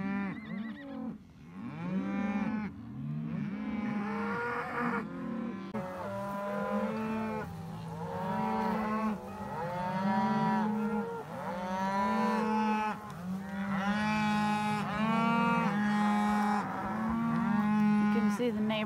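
A herd of cows gives long, overlapping moos one after another, loud and close, forming a steady lowing chorus throughout.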